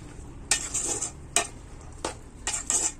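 A spoon stirring snake gourd with chana dal in a hot pan, several short scraping strokes at irregular intervals over a soft sizzle, close and fairly clear, with no voices.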